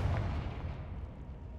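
A Confringo spell blast in Hogwarts Legacy, a heavy booming explosion with a deep rumbling tail that fades out.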